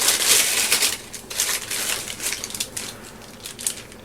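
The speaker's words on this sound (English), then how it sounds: "is that a plastic bag?" A plastic bag crinkling and crumpling close by, a loud continuous rustle that swells in bursts over a few seconds, with no talk.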